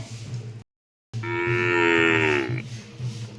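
A buffalo gives one long, loud, close moo lasting over a second, with a low rumble of livestock sounds before and after.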